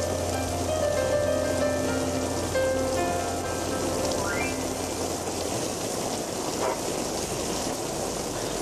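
Heavy rain pours down steadily and loudly throughout, a dense continuous wash of drops hitting surfaces, with faint tonal hum and a brief whistle-like sweep partway through, and no voices.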